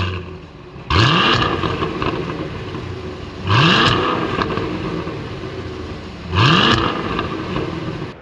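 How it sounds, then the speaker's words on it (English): A Cadillac CT5-V Blackwing with a supercharged V8 engine blips its throttle three times at even intervals. Each rev is a sharp, loud, close roar that decays into a rumbling idle, with no talk. "let's hear how this car sounds, because it's insane"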